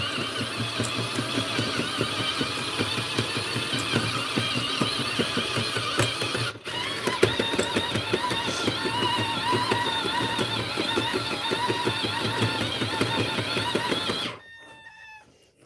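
Jamit electric knitting machine running steadily with a dense mechanical whir and rapid rhythmic clatter, close and loud, cutting off abruptly near the end.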